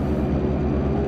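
Left engine of a DHC-6 Twin Otter turboprop spooling up during start in FSX, a steady droning rumble with low harmonic hum, continuous and close, no talk.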